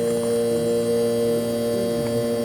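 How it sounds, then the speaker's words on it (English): The compressor of an early-1970s Sears Coldspot Viewsaver air conditioner runs with its fan stopped, a quiet, steady electrical hum with faint tonal drones throughout. "we can hear the compressor running"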